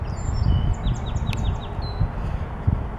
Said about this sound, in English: that's what we're hearing. A lot of robins around right now.